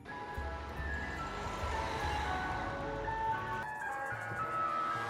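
Ice cream truck jingle at a late hour, playing slower and eerier than usual, a thin repeating melody over a low idling engine, moderately distant and steady.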